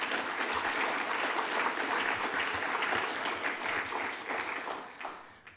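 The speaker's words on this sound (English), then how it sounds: "Round of applause for our author," An audience gives a round of applause for an author at a public event, with dense, steady clapping that holds loud for several seconds, then thins and fades toward the end.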